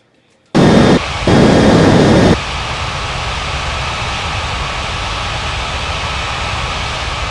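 A jet airliner in the Unmatched Air Traffic Control game touches down on runway 32 left, a sudden loud roar of broadband engine and rushing noise that steps down after two seconds to a steady, softer rumble.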